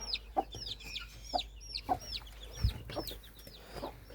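Repeated high, thin peeping calls from a small chick come in quick sequence, fairly close, with soft clucking fowl sounds mixed in.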